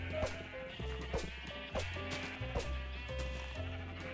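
Sheep bleating in Minecraft, a few short game bleats heard over steady background music with rhythmic chime-like notes, with no voices.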